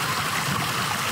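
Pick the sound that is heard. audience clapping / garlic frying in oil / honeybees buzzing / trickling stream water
trickling stream water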